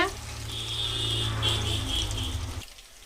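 Chicken pakoras frying in hot oil while being stirred, a close, steady sizzle with a low hum beneath that cuts off abruptly near the end.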